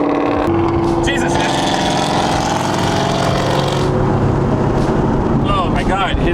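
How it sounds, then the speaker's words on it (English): Engine of a C7 Corvette or Nissan 370Z revving loudly on a street, a close, strained roar with rising and falling pitch, while people talk excitedly over it. "God, his car is so loud."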